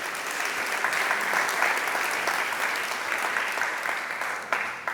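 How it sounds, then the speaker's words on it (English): Steady applause from a conference audience, dense and even throughout with no pauses, at moderate level, after a talk on React performance. "round of applause for everyone for that"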